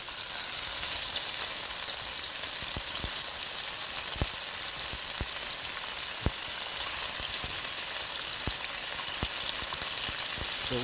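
Floured pieces of deer meat fry in hot oil with a dense, steady sizzle. Occasional sharper pops and crackles break through. The frying is loud, close and continuous, with no voices.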